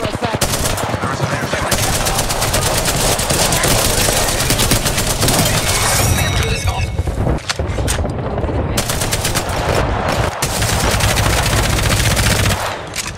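Sustained machine gun fire in the video game Apex Legends, long rapid bursts of loud close gunfire with only brief pauses between them.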